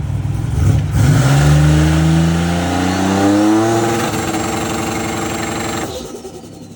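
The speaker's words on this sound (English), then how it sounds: "with this larger PTC 7675 turbo? So to my surprise, it actually spools very fast." A Buick Grand National with a large PTC 7675 turbo revs hard up close. The engine note climbs in a loud, sustained sweep, then a rising turbo whine builds on top before the revs cut off sharply near the end.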